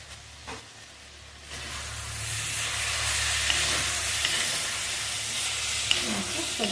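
Cauliflower and tomato pieces fry in hot oil with Kashmiri chili powder for an Assamese fish curry, a quiet start that swells into a steady, loud sizzle and hiss after a second or so.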